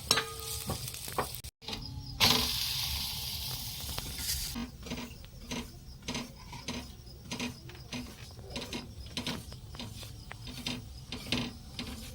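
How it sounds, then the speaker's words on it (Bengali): Cauliflower pieces fry in hot oil with a steady sizzle, while a spatula scrapes and stirs in a slow repeating rhythm, fairly close and with no talking. "এভাবে আমি লাল লাল করে সব ফুলকপির গুলো ভেজে নেবো"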